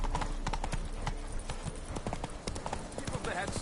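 Galloping horse in The Witcher 3: Blood and Wine, a fast, continuous clip-clop close and loud, with a voice speaking over it.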